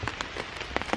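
Heavy rain drums on tents at an Appalachian Trail campground on Loft Mountain, dense close spatters and drips in an irregular patter, no voices.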